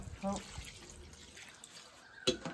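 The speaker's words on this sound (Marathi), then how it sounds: "बघा आता आईने पाणी काढून टाकला." Water splashes and trickles out of a pot nearby, with a few brief clattering knocks, fairly quiet throughout.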